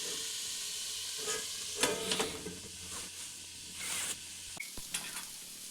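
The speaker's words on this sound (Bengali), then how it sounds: "এটিকে এখানে প্রায় 2 মিনিটের মতো ভেজে নেব মিডিয়াম টু লো ফ্লেমে" Vegetables for a vegetable chop fry and sizzle in a pan on a medium-low flame, a steady quiet hiss broken by a few stirring scrapes and clinks of a plate lid being set over the pan, with no talking.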